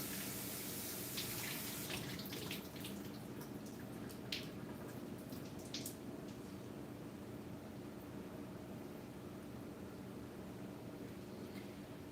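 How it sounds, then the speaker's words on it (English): A teapot is rinsed under a kitchen tap, with steady running water and faint splashes and drips in the background, quiet and continuous. "I'm going to rinse out my teapot"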